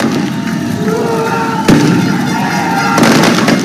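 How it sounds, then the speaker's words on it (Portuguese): Fireworks set off by protesters outside, celebrating an arrest: loud crackling bangs and sharp reports over a noisy crowd, with a sudden burst near the middle and another near the end. "soltaram fogos de artifício para comemorar a prisão"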